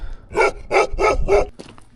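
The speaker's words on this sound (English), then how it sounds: "Almost getting mauled by a dog." A dog barks four times in quick, even succession, loud and close, while passing along a rocky, desert-like stretch of road, followed by a brief trailing yelp.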